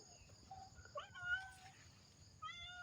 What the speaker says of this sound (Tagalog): Nagme-meow yung pusa guys.